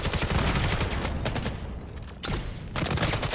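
Rapid bursts of rifle fire from a 303 in a competitive multiplayer video game scrim, loud and continuous with dense overlapping shots, a brief drop in level midway, then more firing.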